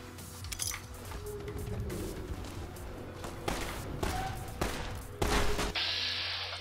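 Gunfire in the video game Fallout New Vegas: scattered sharp shots and thumps crack out at irregular intervals, some louder bursts near the end, moderately close amid game ambience, no talk.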